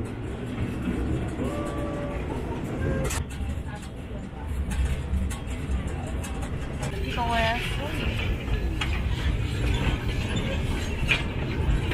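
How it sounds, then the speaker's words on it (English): Steady low rumble of the Gucun Forest steam train in Shanghai moving along tracks, with faint clatter and a squeal, under ongoing talk from people aboard. "we are off on the Gucun Forest train"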